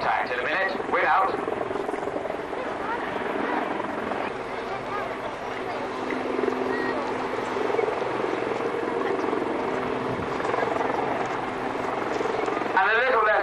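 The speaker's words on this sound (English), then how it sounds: "you'll see the Link's helicopter. He's just going to lift himself above the tree" A steady, loud helicopter rotor drone as a Lynx helicopter lifts above trees at a battle display event, filling the whole stretch, with voices talking over it throughout.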